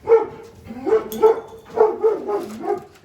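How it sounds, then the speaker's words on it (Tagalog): A dog barks repeatedly in short, loud bursts, several barks in quick succession with brief pauses, close by. "Kulit na naman yung aso."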